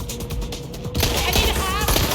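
Dense rapid gunfire in the video game Watch Dogs Legion, a fast burst of shots that turns into a loud, continuous, chaotic barrage, heard up close with a voice shouting over it.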